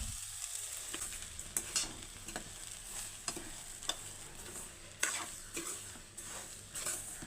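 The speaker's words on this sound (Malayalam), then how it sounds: "നമുക്കിനി ഇതിൽ റവ ഇട്ട് കൊടുക്കാം" Semolina (rava) added to a pan with softened vegetables and roasted for upma, a quiet low sizzle broken by repeated scraping and stirring strokes against the pan.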